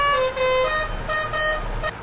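A vehicle horn in a driving video game honks loud and steady for about two seconds, a sustained tonal blare with slight breaks, heard alone without talk.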